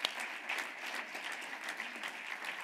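Sustained audience applause fills a conference hall at a women political leaders' global summit, a dense, steady wash of many hands clapping at moderate distance with no pause.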